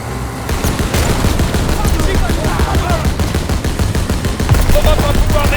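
In the Call of Duty: WWII campaign, a mounted machine gun rattles in dense, continuous rapid bursts, loud and close, mixed with battle noise and occasional voices.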